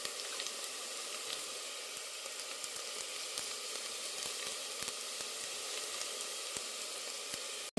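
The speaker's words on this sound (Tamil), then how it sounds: "இப்பொழுது எண்ணெய் உதித்து வெங்காயம் எல்லாம் போட்டு நன்றாக வதக்கி கொண்டிருக்கின்றேன்" Onions frying in hot oil with fennel seeds and curry leaves for a crab curry, a steady close hiss and sizzle throughout with faint occasional crackles and a stir at the very end.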